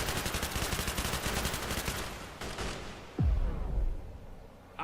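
Rapid automatic gunfire from two heavy units defending a gate in the Quarantine Zone RTS game, dense fast bursts of loud repeated shots that gradually thin out and fade, with a sharp deep boom near the end.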